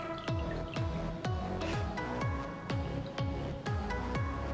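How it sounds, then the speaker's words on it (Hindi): A water-soaked beauty blender makeup sponge squeezed over and over, giving regular wet squishes and drips about every half second, close and fairly quiet. "इसे अच्छे से पानी में सोक करने के बाद इसे हम अच्छे से स्क्वीज कर लेंगे।"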